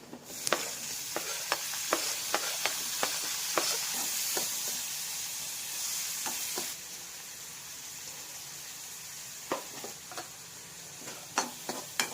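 Chicken with egg, onion and tomato sizzles in a home kitchen pan, with sharp ticking scrapes of stirring through the first half before the frying settles into a quieter, steady hiss with occasional clicks.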